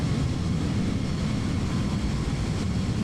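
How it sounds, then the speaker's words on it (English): Steady broadband roar of an A320 airliner cruising in flight, simulated in Microsoft Flight Simulator 2020 near a storm, with a constant low engine rumble and airflow hiss, continuous and even throughout. "The plane sounds very cool."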